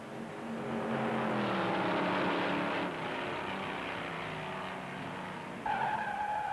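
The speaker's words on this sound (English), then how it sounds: "smashes a guardrail and spins off the high bank first turn." Race car tires screeching in a long skid at Darlington Raceway during the 1958 Southern 500, a sustained squeal with engine roar and a shift in pitch partway through as the car spins.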